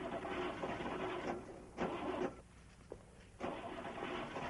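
A truck engine cranks and turns over in several repeated bursts of starter grinding with short pauses between, at moderate distance and with no talking.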